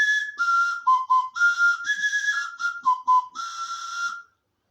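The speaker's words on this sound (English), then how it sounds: "a carrot that I've bored a big hole down the middle of, cut out a little mouthpiece and made some holes in so I can play it like a whistle" Homemade whistle carved from a hollowed carrot with a mouthpiece and finger holes, playing a clear, breathy tune of short stepped notes and quick repeated tones, close and alone before stopping.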